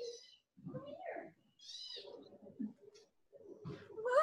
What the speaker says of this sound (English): Let me get my kitty first.